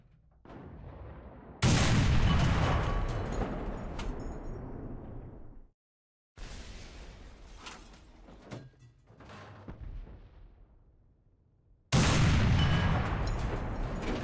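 An SU-100P self-propelled gun in War Thunder fires several heavy booming shots, each a sudden loud blast with a rumbling tail, between quieter stretches of engine and battle noise.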